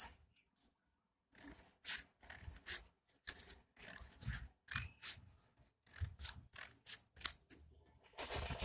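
Scissors trim extra buckram from a high-neck Chinese collar, giving a quick run of close, crisp snips in short clusters after a quiet start.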